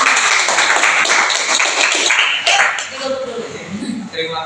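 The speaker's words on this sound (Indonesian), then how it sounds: "beri tepuk tangan untuk kelompok." Classmates applaud a student group after a classroom presentation on Pascal's law: a short burst of scattered clapping that fades quickly as voices and chatter carry on in the room.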